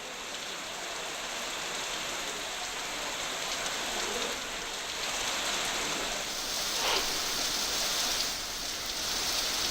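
Heavy monsoon rain pours steadily in the Jawhar and Mokhada area of Palghar district, a dense, even hiss of falling water throughout with no voices.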